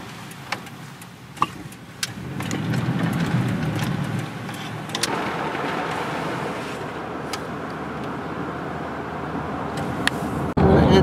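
A car drives along a road near Indiana Dunes National Park, a steady interior engine and road rumble with a rhythmic ticking like a turn signal over the top.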